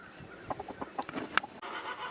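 Chickens in a garden cluck in short, irregular bursts, close and moderately loud, with no talking over them.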